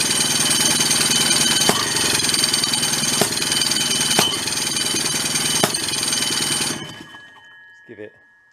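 A salvaged, garbage-picked Rockwell engine idling loud and close with a steady dense rattle and periodic knocks, then cutting out abruptly, leaving a faint knock and quiet.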